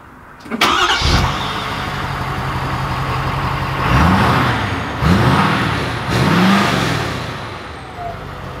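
A 2020 Ford F-350 STX pickup with a Powerstroke diesel engine cranks and starts, settling into a loud, steady idle nearby, followed by three brief revs.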